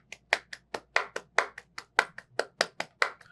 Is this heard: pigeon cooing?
no